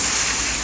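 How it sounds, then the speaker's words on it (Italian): Water spray splashing and rushing during storm flooding near a bridge, a steady broadband wash of spray and wind noise filling the short moment, loud and close. "qui ci arrivano degli spruzzi d'acqua"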